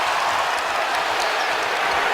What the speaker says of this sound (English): Now that is genuine crowd reaction.